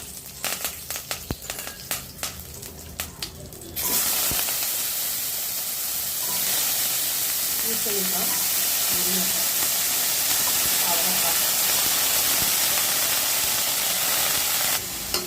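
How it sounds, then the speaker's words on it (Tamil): Mustard seeds, fenugreek and curry leaves hit hot oil in a kadai, breaking into a loud, continuous sizzle and hiss after a few seconds of clattering, then holding steady throughout. "கொஞ்சமாக எண்ணெய் விட்டுருக்கேன் கடுகு வெந்தயம் கருவேப்பிலை"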